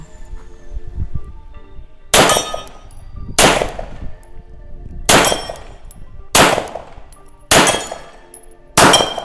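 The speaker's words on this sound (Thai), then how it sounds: "ขอลองยิงเพจระยะไกลนะครับประมาณ30เมตรเลย" Six loud, evenly paced pistol shots from a CZ Shadow 1 Orange fired at targets about 30 metres away on a range, each crack followed by a short ringing decay.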